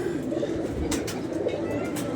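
A stray domestic pigeon coos in a low, continuous throaty murmur, close and moderately loud, with a faint voice briefly in the background.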